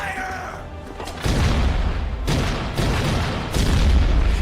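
Cannon volley from the Attack on Titan anime as defenders open fire on the Titans: a sustained, loud barrage of booming blasts and rumbling impacts that swells in three heavy surges, with a shouted voice at the start.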